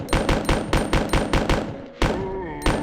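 Gunfire in Resident Evil 2 (1998): a fast run of loud, evenly spaced shots, a short pause, then more shots and a ringing tail.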